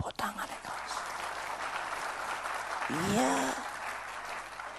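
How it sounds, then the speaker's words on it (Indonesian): A church congregation applauding during a sermon, a sustained wash of clapping with a brief spoken word at the start and a voice rising under the applause midway. "Tepuk tangan yang keras"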